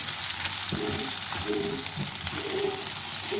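Mashed potato, seasoned with salt and crushed red chilli, being stirred and fried in a pan for aloo paratha filling; a constant loud sizzle with repeated soft scraping and pushing strokes close by.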